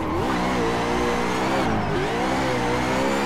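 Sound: Nissan 370z engine revving while drifting, Assetto Corsa video game

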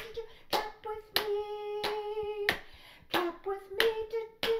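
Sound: hands clapping to the Baby Shark rhythm

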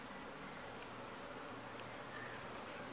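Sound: honeybee swarm being transferred to a hive

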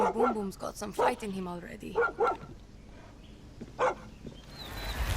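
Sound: dog barking in video game Far Cry 6

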